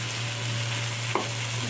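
Shredded cabbage fries with potatoes in a pan for a prawn-and-cabbage dish, giving a close, even crackling sizzle with a steady low hum beneath and one brief clack of stirring near the end.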